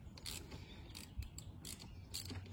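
A ratchet tightening bolts on a car housing, quiet clicking strokes in short repeated bursts, close and fairly faint.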